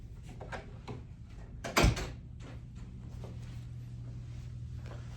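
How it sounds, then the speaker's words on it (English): A single solid thud of a door shutting close by, with a soft rustle of movement around it against a steady low hum. "Let me close the door."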